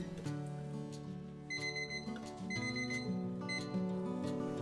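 A kitchen timer alarm goes off while bread rolls proof, sounding a repeated pattern of bright electronic beeps in rhythmic bursts, clear and fairly close with no talking.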